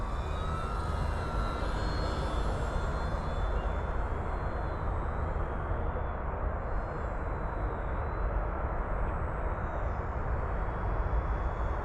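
FMS Cessna 182 1.5 m RC model airplane flying at slow speed, a steady continuous engine drone heard from a distance with constant wind-like noise throughout, no talking.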